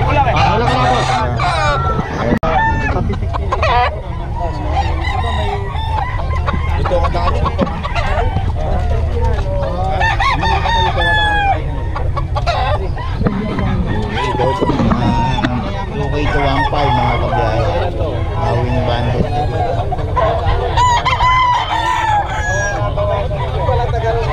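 Roosters crow repeatedly and hens cluck in a noisy yard of gamecocks while several people talk over the flock.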